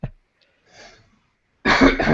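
A single sharp cough at the start, followed by faint breathing and a short louder burst of coughing or throat clearing near the end, close to the microphone.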